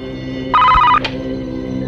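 A cartoon telephone gives a short electronic ring lasting about half a second and is followed by a small click, with no one speaking over it.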